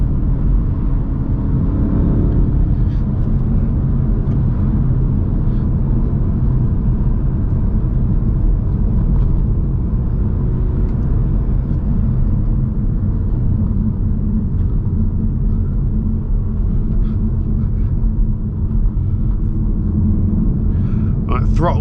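A Volkswagen Golf R accelerates hard up to 60 on a national speed limit road, its steady low engine rumble and road noise heard from inside the cabin, loud and continuous throughout.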